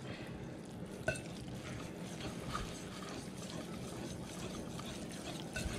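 Waffle batter is whisked by hand in a bowl, giving a soft, continuous wet churning and sloshing with a small clink near the start, quiet and close, with no talking.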